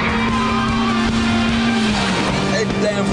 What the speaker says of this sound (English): Full throttle, 3rd gear, through Clark.